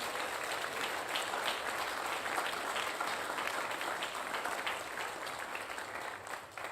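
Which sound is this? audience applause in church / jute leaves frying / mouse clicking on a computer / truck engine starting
audience applause in church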